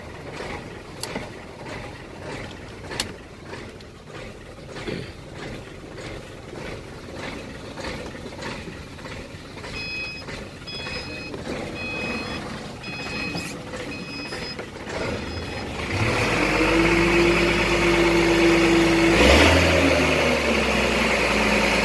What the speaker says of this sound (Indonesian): Enak banget suara mesinnya.